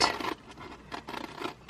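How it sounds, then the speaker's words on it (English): Scissors cut a paper template for a crochet Christmas star, giving several soft, close snips and rustling strokes in an uneven rhythm in a quiet room. "So I'll get my scissors"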